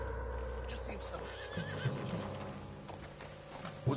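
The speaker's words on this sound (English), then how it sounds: "What's wrong with this horse?" A horse in the video game Red Dead Redemption 2 whinnies while hooves clip-clop, heard under game dialogue with voices talking over the animal sounds.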